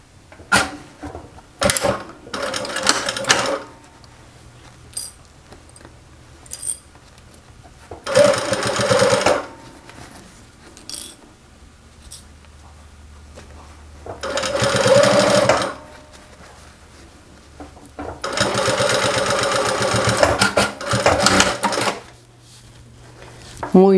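A sewing machine stitches a seam on a small fabric phone pouch with a strap, running in several separate bursts of a few seconds each, with quieter handling noises in between.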